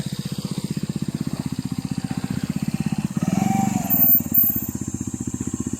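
A motorcycle engine idles close by in a steady rapid putter, then revs up briefly with a rougher burst before settling back into the even idle, and no one talks.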